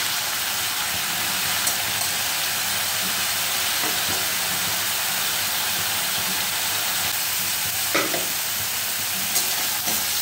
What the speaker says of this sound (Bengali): এইবার জিরে গুঁড়ো একটু দিয়ে দিলাম। দিয়ে নাড়াচাড়া করে নেব একটু।